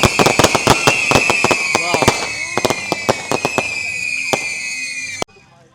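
Strings of firecrackers burst in rapid, irregular volleys of sharp cracks during St. Peter's church chariot procession festival in Mandaitivu, loud and close over a sustained tonal background, then cutting off abruptly.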